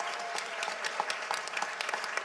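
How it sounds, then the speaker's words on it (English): Audience applause at a regional student pitch competition, a steady dense clapping from a crowd that holds evenly for the whole stretch with no voices over it. "one more round of applause for all the students that competed today"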